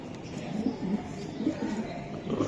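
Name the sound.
racing pigeon cooing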